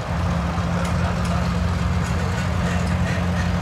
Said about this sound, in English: That's a Ford with a Ford manure spreader.